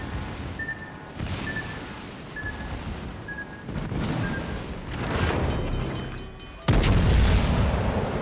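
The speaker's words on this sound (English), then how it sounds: "Concentrate fire on the designated target." Heavy warship guns from the game World of Warships boom in repeated salvos against a target, with a steady rumbling battle bed and a sharp, loud blast near the end.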